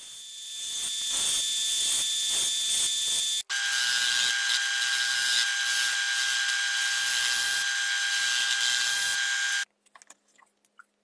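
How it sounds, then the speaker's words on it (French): A drill press spins sanding drums against a wooden cam, giving a steady high-pitched motor whine with a grinding rasp. The tone shifts after a brief cut, then stops near the end and leaves faint clicks, with no talking. "Je vais faire la finition sur la table de ma perceuse à colonne avec mes cylindres de ponçage."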